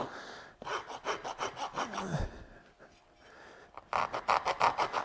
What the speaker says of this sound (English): I like to take and soften all this with a rasp